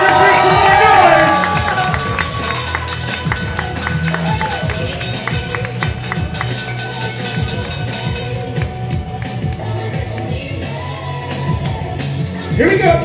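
Audience at a bartender flair show keeps up a steady wash of cheering and crowd noise while a host talks loudly over it and music plays, with a louder swell at the end.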